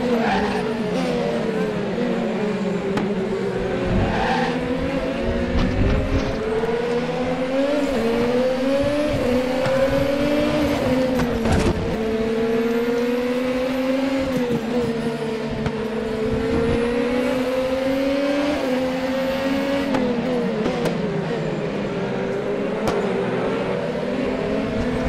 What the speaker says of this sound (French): Pour vous laisser un peu profiter du son de ce V6 2 litres 2 turbo